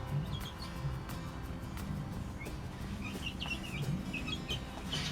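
Backyard chickens cluck and chirp in short scattered calls over a steady outdoor rumble, with several birds sounding at once at moderate distance; no voices.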